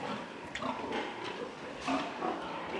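Piétrain pigs on a farm in Côte d'Ivoire grunt in low, rough snorts, heard close and fairly faint over a murky, breathy background.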